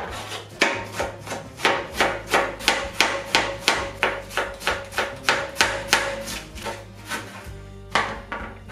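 A knife chops young cabbage finely on a wooden board in a steady, rapid rhythm of sharp close-up cuts with a few brief pauses between them.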